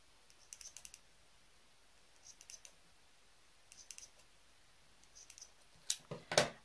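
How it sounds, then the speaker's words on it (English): Scissors snip through loops of yarn on a woven craft bookmark in small clusters of soft, close clicks, growing louder toward the end, with no voices. "So I like to snip these loops"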